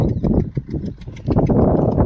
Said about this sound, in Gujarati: ટ્રેક્ટર હાલે